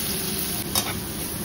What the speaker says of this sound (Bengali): পেঁয়াজটা একটু জাস্ট ভাজা ভাজা করে নেবো